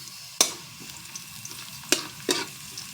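Onion and garlic sautéing in a pot for arroz caldo, heard as three sharp close bursts of frying hiss or stirring clatter, each fading quickly, with a faint low sizzle between them and no talking.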